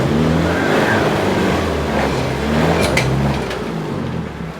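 A car engine revs hard and steadily while trying to climb a steep, rough off-road track, loud and close with a sustained droning roar that eases slightly toward the end.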